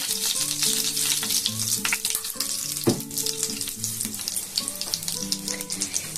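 Two crushed cardamom pods, four cloves and a piece of cinnamon frying in hot oil for an omelette curry, a loud, close, steady sizzle with a sharp spit near the middle, while a low hum runs underneath.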